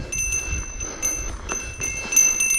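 A mountain bike handlebar bell rings with light, repeated metallic tings over steady trail riding noise on a fire-damaged mountain trail in Yolo and Colusa County.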